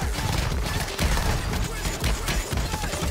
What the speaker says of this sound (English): Fucking shotgun, bro, is so annoying.